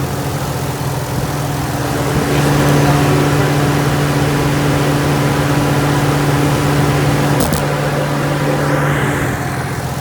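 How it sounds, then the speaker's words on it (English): A non-turbo car engine idles smoothly with a steady, even hum and no knocks or rattles, continuous and fairly close, with no voices over it. "As you can hear, no bad motor noise. Car runs smooth."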